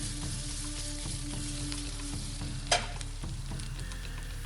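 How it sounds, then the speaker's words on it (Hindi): Edible gum (gond) fries in hot desi ghee with a steady, close sizzle and bubbling, plus a brief sharp clink of a utensil midway. "हमारा देसी घी गर्म हो चुका है। हमने उसमें गोंद डाल दिए फ्राई करने के लिए।"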